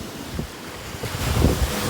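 Surf washing onto the Lake Michigan shore at Petoskey, Michigan, a continuous broadband rush that swells toward the end, with wind buffeting the microphone and no voices.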